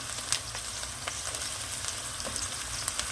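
Chopped garlic sizzles steadily in a hot pan with olive oil while being stirred a couple of times, a close, continuous frying hiss dotted with small pops and scraping clicks, with no talking.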